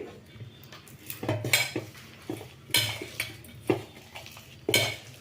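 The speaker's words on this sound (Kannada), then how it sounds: "ಹಸಿಮೆಣ್ಸಿನ್ಕಾಯಿ ಮತ್ತು ಕೊತ್ತಂಬರಿ ಕರಿಬೇವು ಇದನ್ನೆಲ್ಲ ಚೆಂದಾಗಿ ಫಸ್ಟ್ ಕಲಿಸ್ಕೊಬಿಡ್ತೀನಿ" Chopped green chillies, coriander and curry leaves mixed with onion in a bowl, giving repeated close scraping and clinking strokes of a utensil against the dish, in an irregular rhythm with no talk.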